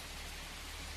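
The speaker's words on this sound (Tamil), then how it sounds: "கௌதம், ஹே, மழை வேற துடுது" Steady rain falls at night outside a building, a constant broadband patter of drops with no breaks, heard alone at low level.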